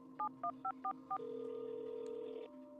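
A telephone number dialed on a keypad: five quick evenly spaced touch-tone beeps, followed by a steady ringback tone lasting about a second, close and clear, with no talking.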